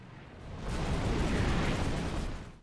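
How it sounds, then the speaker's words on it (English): In the Combat Mission Shock Force 2 war game, ammunition cooks off inside a knocked-out Soviet tank as one muffled, rumbling burst that swells, holds for about two seconds and then fades, heard fairly faint and alone. "Turn 2 starts the bang as some ammo from the knocked out Soviet tank explodes"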